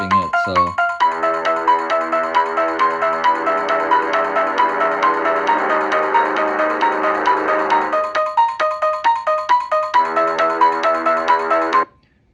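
A Para Rem Motion Tunes toy, triggered by being moved and tapped, plays a bright electronic melody of quick beeping notes in a steady rhythm for about twelve seconds, loud and close, then cuts off.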